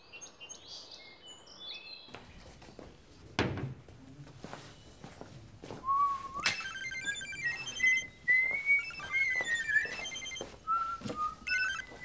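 An outgoing telephone call rings on the line, heard as repeated tones with chirpy electronic melodic tones rising and falling, alone without talk.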